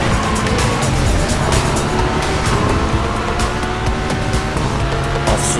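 A loud, steady engine roar with tire noise from a Krieger Uberschall 8 boosting in the racing video game Burnout Paradise Remastered, sustained at full volume throughout.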